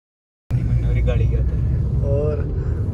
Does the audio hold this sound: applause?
no